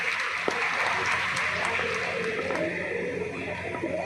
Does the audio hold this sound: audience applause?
yes